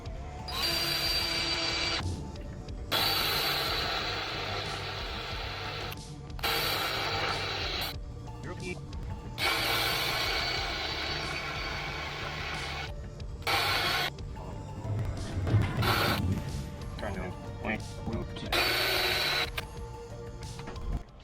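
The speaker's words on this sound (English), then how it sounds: "one of these here right angle drill attachments just to give me enough room to get in there" A drill fitted with a right-angle attachment and a Hercules spiral-flute step bit, boring through metal on the front suspension of a 1972 C10 shop truck; repeated whining bursts of a few seconds each, separated by short pauses, close and fairly loud.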